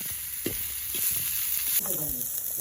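Vegetables being stir-fried for Bengali-style chowmein, with carrot, beetroot and capsicum in a hot pan: a steady loud sizzle with scraping stirs of a spatula and a few clanks, close up.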